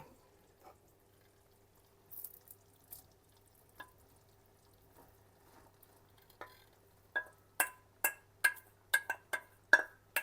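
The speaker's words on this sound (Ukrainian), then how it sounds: "І додаємо зараз перлову крупу" Pearl barley poured into a pot for Transcarpathian-style cholent, heard as a run of sharp, close rattling clicks and patters that grow denser and louder toward the end, with softer scattered taps before.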